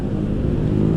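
Several new motorcycles ride together on the road, including a Honda; a steady, loud engine drone with low rumbling tones runs throughout, with no talking.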